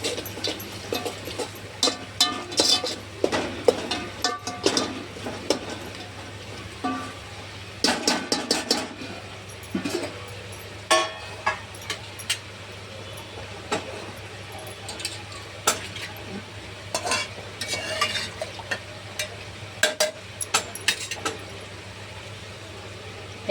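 Dal khichdi with turmeric stirred in a pan: irregular scrapes and clinks of a spoon against metal over a low steady hum and faint sizzle, loud and close, with no talking.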